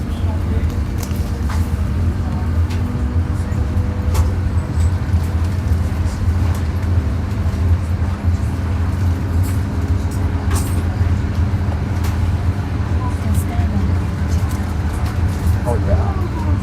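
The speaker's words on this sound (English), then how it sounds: "you can hear the special sound of the train" An old Soviet-style elektrichka electric train runs along in Bulgaria, giving a steady low rumble and hum inside the carriage, with people talking over it.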